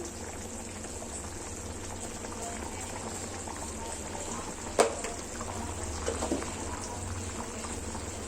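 Chicken curry with yogurt and garam masala simmering in a pot, a soft continuous bubbling and sizzling close by with a faint kitchen hum and one brief clink.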